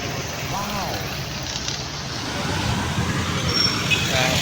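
Road traffic hums along Magsaysay in Davao, Philippines: a continuous wash of car and truck engines, growing a little louder, with faint horn-like tones and brief voices in the background.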